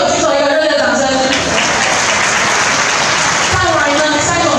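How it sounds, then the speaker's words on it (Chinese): An audience at an annual awards gala in a hotel breaks into warm applause, a dense and loud wash of clapping that carries right through, with faint voices mixed in. "我们给这些有举手一个热烈的掌声"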